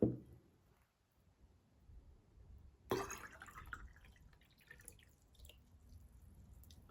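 Water poured into a one-litre glass jar: a brief splash at the start, a short pause, then a second pour that trickles and drips faintly for several seconds in a quiet room.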